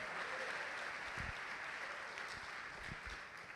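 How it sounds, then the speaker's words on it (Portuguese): A church congregation applauds steadily, a dense continuous clatter of many hands filling the space, with a few low thumps underneath and no speech. "Vamos aplaudir o Senhor e se coloque de pé no seu lugar."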